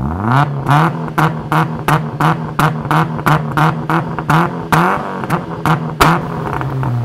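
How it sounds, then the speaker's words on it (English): Car engines rev loudly and close by in a quick run of rhythmic bursts, with no voices over them. "And gentlemen, Start your engines."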